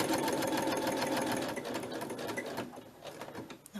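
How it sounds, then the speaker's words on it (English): A domestic sewing machine stitching after being started with the foot pedal runs close and steady with a fast, even mechanical whirr and rapid needle clatter that slows slightly toward the end. "pop my needle down, find my little foot pedal, and away we go"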